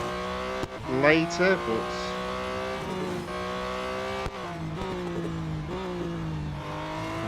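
A race car in the video game Real Racing 3 drones with a steady engine note that climbs and drops through gear changes, with brief tire squeal, while someone talks over it.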